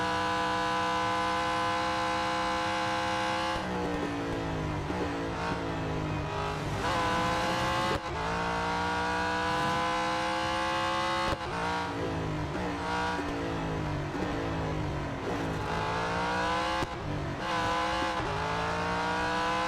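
Engine drone of a race car in the mobile game Real Racing 3, a sustained tonal whine that repeatedly climbs through the gears with sharp shift drops, steady and loud throughout with no talk.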